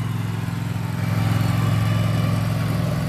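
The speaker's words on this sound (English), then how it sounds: "Sorry about the noise here. There's a cart going by." A small engine drones close by with a steady, pulsing putter, growing slightly louder as a cart passes through a resort parking lot.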